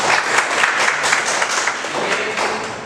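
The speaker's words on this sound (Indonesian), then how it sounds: "Oke, beri aplaus dulu untuk" Steady applause from an audience at a university teaching session, dense clapping sustained evenly throughout at moderate loudness with no talk over it.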